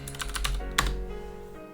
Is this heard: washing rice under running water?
no